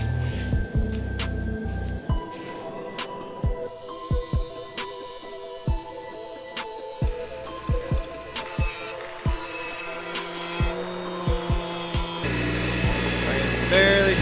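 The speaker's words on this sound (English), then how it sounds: "I'm gonna grind that out, and we'll be back. To the grinder!" A grinder works at a crack in a forged knife made from scrap steel, with intermittent whirring and grinding bursts, sharp clanks and knocks, and louder sustained grinding near the end in a workshop.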